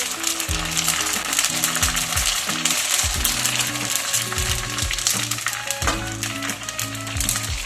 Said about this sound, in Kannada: ಎಣ್ಣೆ ಕಾದಿದ್ರೆ ಏನು ಪೂರಿ ಹಾಕೋರಿ